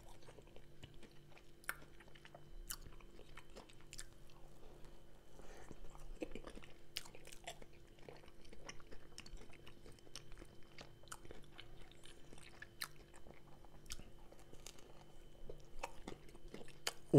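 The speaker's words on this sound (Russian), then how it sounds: "теперь попробуем пирожок творожный" Quiet, close bites and chewing of a salted cottage cheese pie with a crisp crust, soft crunches and mouth sounds scattered over a faint background.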